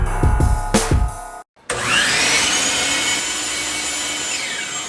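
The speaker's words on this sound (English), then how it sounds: "We're gonna cut 2 pieces of wood, that's it." A power saw cuts two pieces of wood, a loud sustained buzzing rasp that starts after a few knocks of handling and a brief silence, then runs continuously at close range.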